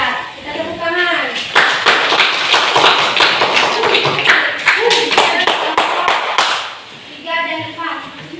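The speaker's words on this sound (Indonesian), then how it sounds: "Ya, kita tepuk tangan." A classroom of students clapping hands together after a science experiment presentation, a dense burst of sharp claps lasting several seconds, with speech and voices before and after.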